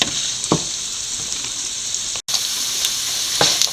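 Coconut pieces sauté in a pan for rabbit ularthiyathu with an even, close sizzle and a few soft stirring clicks, plus a brief dropout partway through and no talking.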